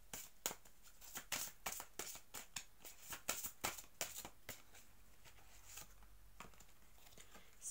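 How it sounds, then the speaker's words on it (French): Tarot cards being shuffled and drawn from a deck, a quick series of crisp, close card flicks and snaps in irregular bursts, very quiet, then tapering off. "on me dit de tirer encore une carte"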